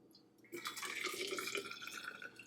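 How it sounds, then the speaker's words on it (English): Hot water is poured into a morning shake, a bright trickling splash starting half a second in and running steadily near the microphone. "I'm gonna add hot water."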